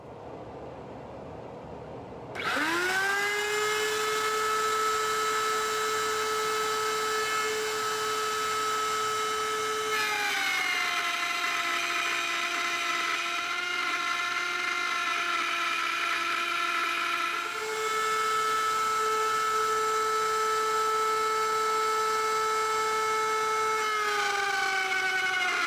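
A router cuts a trench in reclaimed oak, a loud steady high-pitched whine that spins up abruptly, holds for over twenty seconds, and shifts pitch slightly as the bit loads into the wood.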